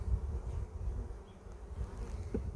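Honey bees buzzing steadily around an open hive during a dry, smoky summer inspection, a dense low drone without talk.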